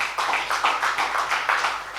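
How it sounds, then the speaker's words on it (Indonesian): Church congregation claps in praise during a service, a roomful of hands beating together in a steady rhythmic pulse, loud and reverberant, with no talk over it. "Tepuk tangan untuk Tuhan Yesus"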